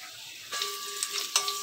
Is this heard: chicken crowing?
no